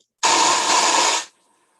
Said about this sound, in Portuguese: Um som de uma cachoeira.